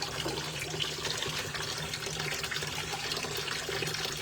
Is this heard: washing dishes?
yes